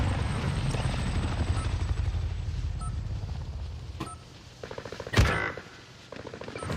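A helicopter comes in to land in a military video game, its rotor thudding loud and steady before fading, with a sharp burst of gunfire near the end.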